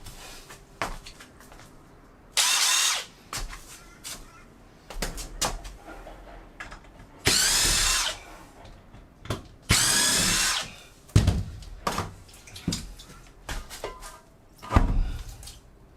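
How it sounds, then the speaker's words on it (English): A power screwdriver drives screws while a filled-in veranda is dismantled, sounding as several loud, separate whirring bursts of a second or so each, with knocks and clatter from the work in the gaps between them. "We do this with a screwdriver."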